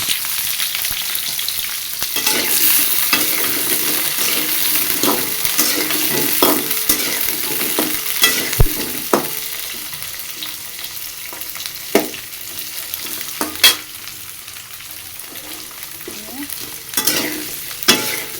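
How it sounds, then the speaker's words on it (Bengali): Pumpkin sizzles steadily in a hot pan while a utensil scrapes and stirs it in irregular bursts, with occasional sharper clinks against the pan and no talking. "ভালো করে নাড়াচাড়া করে ভাজা ভাজা করে নেব"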